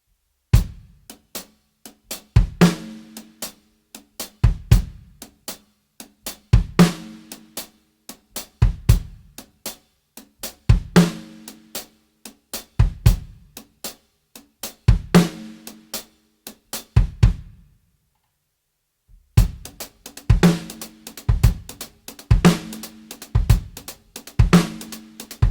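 Drum kit groove with single strokes on the hi-hat and double-stroke accents over kick and snare, played steadily and up close in a repeating pattern, then a short silence before the groove resumes slightly busier.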